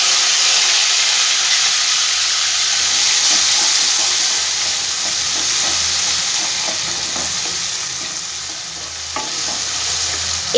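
Ground onion, garlic and ginger paste fries with cabbage in a pan, giving a loud, continuous close sizzle with light stirring scrapes.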